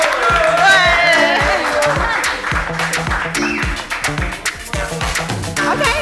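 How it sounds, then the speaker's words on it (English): An audience claps through a dating show studio segment in a steady patter of hand claps, mixed with a thumping music beat and voices over the first part. "Let's clap for him."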